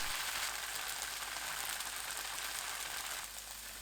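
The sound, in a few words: tofu pan-frying over medium heat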